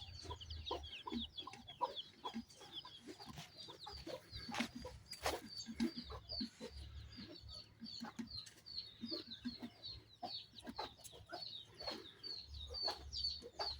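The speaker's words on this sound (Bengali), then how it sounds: "আর বাড়িতে কিন্তু অনেক হাঁস মুরগি" Chickens clucking and calling steadily around a rural village home, a busy flock close by with repeated short clucks and occasional louder squawks throughout, no talking.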